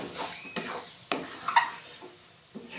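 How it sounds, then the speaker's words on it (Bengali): Amla chyawanprash stirred in a pan, with a few sharp scrapes and knocks of a spoon against the metal spaced about every half second, close and fairly quiet. "ভালো করে নেড়ে চেড়ে নেব"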